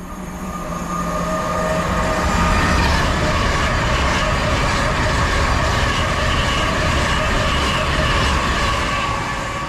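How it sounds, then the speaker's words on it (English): A fast LNER passenger train to Leeds roars steadily past at close range through a South Yorkshire station, a loud continuous rush of wheels and rail noise with a faint high whine, swelling and then easing slightly. "passing through now is the very last train in this video that we're going to film"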